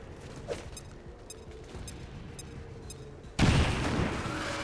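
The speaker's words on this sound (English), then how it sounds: "Move up, chuck a grenade at this codex. Frag out." A frag grenade explodes in XCOM 2, a sudden loud blast that leaves a rumbling roar after a quieter stretch of game ambience and mechanical clicks.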